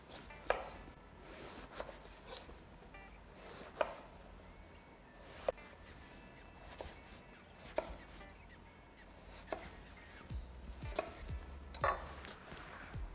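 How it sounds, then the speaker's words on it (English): A knife cuts food into wedges for a spiced roast chicken, sharp thunks on a cutting board repeating roughly every second or so, close and clear against a quiet room. "I'm going to cut this into wedges."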